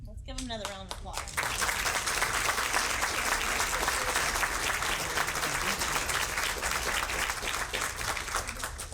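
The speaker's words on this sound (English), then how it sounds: "Give them another round of applause" Sustained applause from a luncheon crowd honoring the winners, dense steady clapping that swells in after a brief spoken moment at the start and carries on loud and even.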